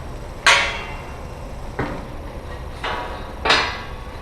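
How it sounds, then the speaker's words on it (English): Four sharp hammer strikes land on a metal barbecue ash drawer at uneven intervals, the first loudest, each leaving a short bright ring in a quiet space. "I keep beating on it with a hammer"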